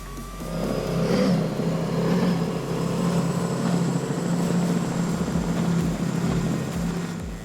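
A 42-foot Cigarette powerboat with Mercury Racing 1100 engines roaring past at speed during the Key West Poker Run, a loud sustained engine drone with faint wind and water noise throughout.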